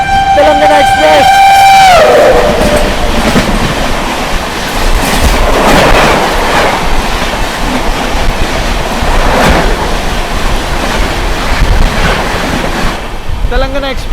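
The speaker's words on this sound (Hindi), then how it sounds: "सामने से आ रही है नई दिल्ली से चलकर हैदराबाद डेक्कन नामपल्ली की ओर जाने वाली आती हुई नई दिल्ली हैदराबाद तेलंगाना एक्सप्रेस" The New Delhi–Hyderabad Telangana Express passes close and loud, with a horn at the start and then a sustained roar of rolling wagons and rhythmic wheel clatter that carries on to the end.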